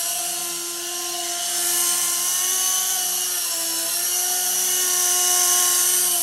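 A remote-controlled TX nano helicopter flies nearby with a steady high whine of small rotors and motor, continuous with slight pitch shifts and no talk.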